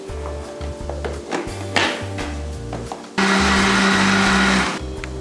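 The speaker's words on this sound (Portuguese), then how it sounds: "você bota o pão e o leite e o creme de leite para passar no liquidificador" A kitchen blender whirs in bursts, blending bread, milk and cream, its motor pitch shifting as it churns, then runs louder and steadier for a stretch before easing off.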